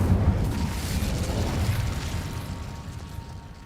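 A fiery Incendio spell blast in Hogwarts Legacy, a loud roaring burst that whooshes and rumbles close up, then gradually fades away without talk.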